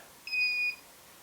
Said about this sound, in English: Okay, I got a beep.